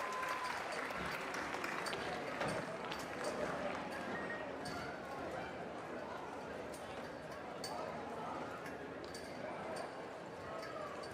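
Crowd applause at a high school senior night football game, Lindale Eagles versus Pine Tree Pirates, a steady wash of distant clapping from stadium stands, with an announcer's voice faintly underneath.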